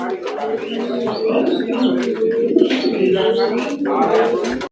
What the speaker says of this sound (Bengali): অনেক অ্যাক্টিভ কবুতর জোড়া, দেখেন মাশাআল্লাহ।